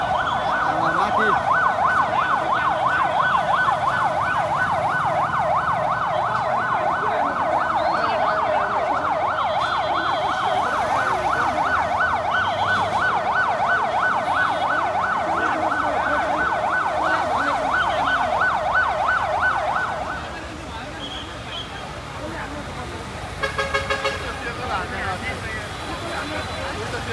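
A Nepal Police fire engine's siren wails in a steady, loud rising-and-falling pattern for about twenty seconds as it arrives, then cuts off, leaving street noise and a brief burst of chatter.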